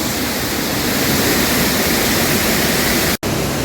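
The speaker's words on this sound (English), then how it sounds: "give you another look at the falls" Arizona Falls pours into a canal in a loud, steady broadband rush of water that holds constant throughout, briefly cutting out near the end, with no voices.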